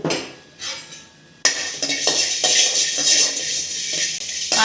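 Black pepper and cumin dry-roasting in a pan make close metallic clinks and scrapes from stirring. A short quiet pause gives way to a busy, steady rattle and clatter.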